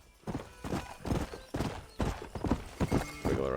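Rapid, rhythmic clip-clop of galloping horse hooves in the Red Dead Redemption video game, steady and close, with a whinny near the end and no talking.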